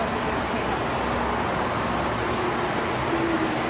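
A big truck passes along a road outdoors, a steady, broad roar of engine and tyre noise that fills the whole stretch, with faint voices underneath.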